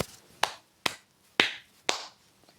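Four sharp, close hand claps in a steady, unhurried rhythm, each a crisp snap with a short tail, separated by near silence.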